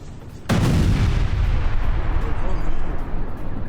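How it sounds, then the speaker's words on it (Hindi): Israeli strike on a building in Sidon, Lebanon: a sudden heavy blast half a second in, followed by a long rumbling, crackling roar of debris and echo that persists, with voices faintly present underneath. "धमाके से पूरी इमारत तबाह हुई।"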